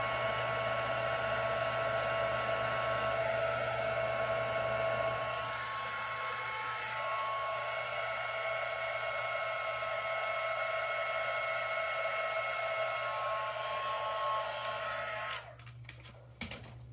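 A heat tool blows a steady, loud whoosh to melt embossing powder for card making, running continuously before cutting off near the end, followed by a few faint clicks.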